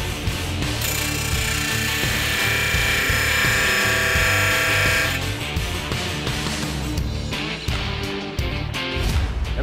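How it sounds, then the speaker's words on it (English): Steady whir of a power drill boring through a 3.5 in Camburg rear end housing in a fabrication shop, loud and continuous for several seconds, then breaking into choppier grinding and clattering bursts. "And then we drill everything right here"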